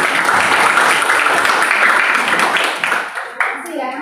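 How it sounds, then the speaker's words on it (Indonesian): A classroom of students claps for several groups after their presentations, a loud, dense burst of applause that thins near the end, with a voice briefly audible as it tapers. "Tepuk tangan untuk semuanya."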